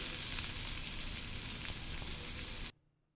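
Fish frying in hot oil gives a steady, close, full sizzle with crackling pops, then cuts off abruptly to silence near the end.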